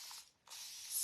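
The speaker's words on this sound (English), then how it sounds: "now we're gonna take and spray some over here" Chalk mineral paint sprayed onto furniture in two near, steady hissing bursts separated by a brief pause, the second burst running longer.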